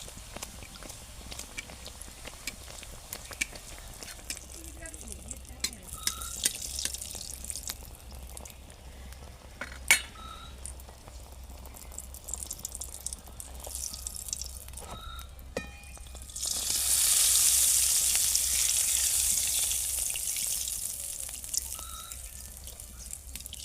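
Green-pea kachoris fry and puff up in hot oil, giving a soft, steady sizzle with scattered crackles and pops that swells into a louder, sustained hiss in the later part.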